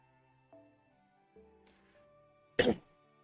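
A single short, sharp cough stands out near the end over quiet background tones.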